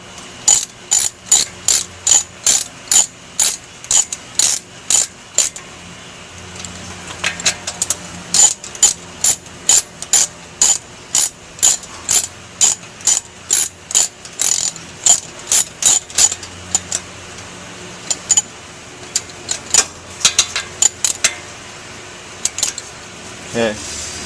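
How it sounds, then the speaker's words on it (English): A ratchet socket wrench snugs the brake pad slider bolts on a Ford, giving long bursts of quick, close metallic clicks with short pauses between strokes and no talk. "Then just snug them down with a socket or a wrench."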